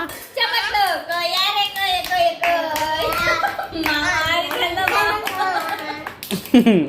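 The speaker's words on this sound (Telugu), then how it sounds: "క్లాప్స్ కొట్టండి అమ్మా." Hands clap in a lively, repeated rhythm at home while a voice carries on continuously over the claps, with a louder burst of clapping near the end.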